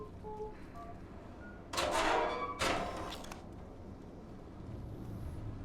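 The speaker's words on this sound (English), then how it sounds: "I'll open the door for you." In the game Stray, a door slides open in two loud mechanical bursts, a heavy grinding rush followed by a second clunking whoosh, close and prominent against a quiet background hum.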